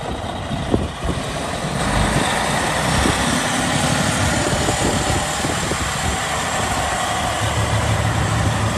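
A 2014 Freightliner Cascadia 113 truck idles in reverse gear, its engine giving a steady, close, rumbling hum with a faint fan-like whoosh throughout and a small knock near the start.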